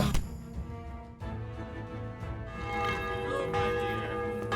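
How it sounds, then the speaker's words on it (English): A church bell rings in the video game Kingdom Come Deliverance, its resonant tolls and long humming overtones layered over a busy background, with strikes recurring through the span. "Ring on the bell."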